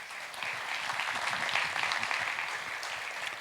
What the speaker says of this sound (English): So give the students a round of applause.